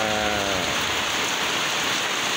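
Steady, loud rain pours on a rainy morning, a dense continuous hiss of drops on surfaces with no pauses and no voices.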